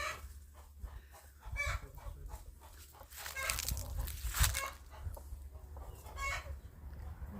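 Chickens clucking and squawking in a village coop as one is caught, with agitated cackles and a rooster crowing amid rustling, fairly faint and a bit distant.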